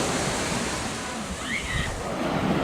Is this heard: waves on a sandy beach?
yes